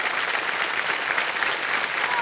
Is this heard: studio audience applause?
yes